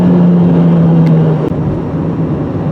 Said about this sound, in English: once that turbo spools up, this thing really moves